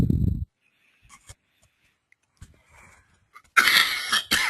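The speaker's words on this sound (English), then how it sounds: "Sorry for my constant coughing." A harsh burst of coughing at the start, then quiet with small clicks and breaths, followed by another loud, rough fit of coughing near the end.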